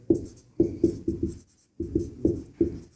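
Pen or chalk strokes writing out a probability solution, a quick run of scratchy bursts in two clusters separated by a short pause, close and clear with no talk.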